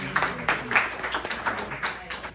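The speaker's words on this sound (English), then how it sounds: "So let's give them another round of applause." Clapping from an audience in a meeting room during a debrief session, a modest round of applause with dense overlapping claps over a short burst, moderately close and steady.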